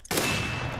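Gunfire in MTA DayZ, a single sharp shot with a burst of rapid crackling reports following at once, loud and fairly close.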